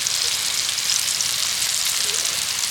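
Ground spices such as turmeric, chili powder and black pepper sizzle in a hot pan, a steady, loud, close frying hiss that goes on without a break.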